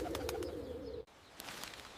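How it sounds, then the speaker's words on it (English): Pigeons coo in a soft, low, steady burble for about a second, fairly close, with faint chirps and light background noise around them; the cooing breaks off abruptly partway through. "Or scare the pigeons."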